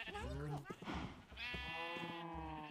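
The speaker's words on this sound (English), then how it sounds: "Hey, sheep!" Minecraft sheep bleating in the video game, a few wavering baa calls in quick succession, close and clear, with a person talking around them.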